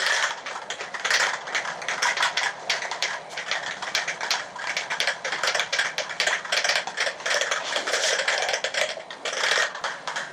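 A spray can of Plasti Dip shaken hard before coating a 4Runner, its mixing ball rattling in a fast, steady clatter close by with no talking.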